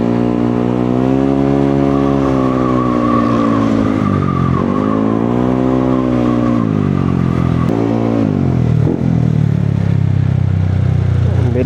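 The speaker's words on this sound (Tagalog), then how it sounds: "Ang daming motor dito ah." Loud engine drone of many motorcycles close by, revving and shifting pitch as they pass along the street, continuous throughout.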